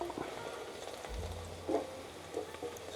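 Prawn biryani masala fries in a pan with a quiet, steady sizzle, a low rumble and a few soft stirring knocks.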